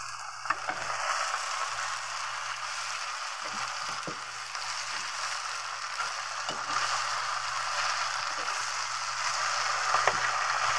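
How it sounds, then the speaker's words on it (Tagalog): Pechay sautéing in a pan with garlic, onion and tomato, a steady soft sizzle with occasional light clicks and stirring knocks, close and moderate in level, no talking. "Igisa rin natin yung ating pitsay."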